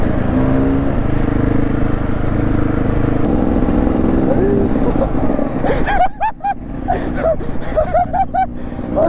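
Beta 300 supermoto motorcycle with a quickshifter, loud, close engine running hard and steady, then sharp revving bursts and rapid blips with wind noise over the riding.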